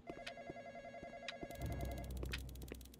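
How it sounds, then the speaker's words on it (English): Telephone bell ringing in a Roblox barber shop game, repeating electronic trills at moderate volume, with a low rumbling game ambience rising in the second half. "Looks like we got a call. Answer the phone."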